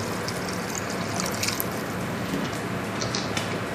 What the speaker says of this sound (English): And now we add about 1/2 liter of water